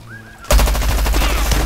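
Rapid automatic gunfire from a weapon in Plants vs. Zombies: Garden Warfare, a loud sustained burst of closely spaced shots bursting in abruptly after a brief quiet moment.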